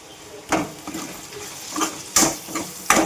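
Fresh curry leaves are tossed into a hot pan with turmeric and chili powder and stirred, producing a soft sizzle broken by several sharp scraping strokes of a spoon against the pan.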